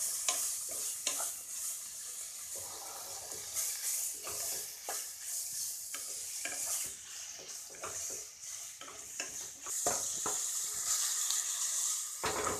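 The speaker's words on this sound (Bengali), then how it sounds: "এখন চিকেনটা একটু হালকা ফ্রাই করতে হবে।" Chicken fries lightly in a pan with steady sizzling and crackling, broken by repeated scraping stirs of a spatula, close and alone with no voices.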